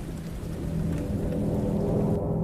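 Steady rain with low rumbling thunder, a continuous dense wash of noise with no voices.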